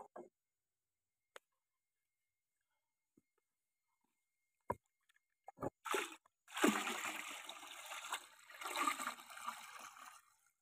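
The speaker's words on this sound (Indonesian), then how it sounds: "ini kita pakai mesin pengaduk ya teman-teman kita gunakan dinamo tangki sprayer untuk mengaduknya" A chili farmer's sprayer-tank motor used as a mixer, stirring pesticide in a 200-litre water drum: scattered clicks and knocks first, then sloshing, churning water that builds and continues to the end.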